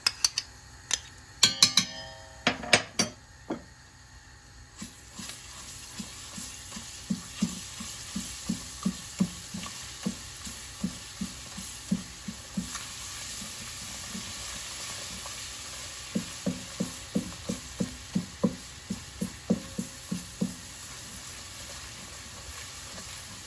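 Tomato paste sautéed in a pot for tomato soup, a low sizzle running under a long series of sharp, rhythmic spoon taps and scrapes against the pan, a few quick knocks at the start.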